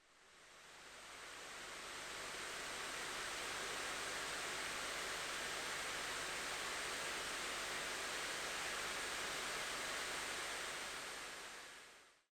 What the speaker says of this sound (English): So the fan sample I'm giving you now is in that performance mode